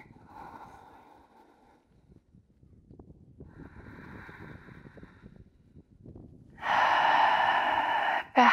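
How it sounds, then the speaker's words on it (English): Slow, deep breaths drawn and released during outdoor yoga in the mountains, with two soft, long breath sounds followed by a louder, sustained exhale close to the mic near the end, with light wind in the background. "try to start lengthening your breath, making your inhales a little bit longer, and your exhales"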